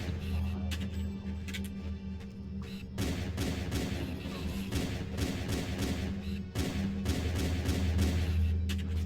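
Rapid weapon fire in Halo CE on Legendary, with dense bursts of shots crackling over a steady low rumble, growing louder and busier after the first few seconds and continuing throughout.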